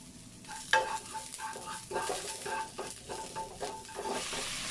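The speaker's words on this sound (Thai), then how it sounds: "ระเทียมสับของเราลงไปค่ะ" Minced garlic stirred and sizzling in a hot pan while cooking tuna fried rice, with a steady frying hiss and scraping stir strokes of moderate loudness, close by, with no talk.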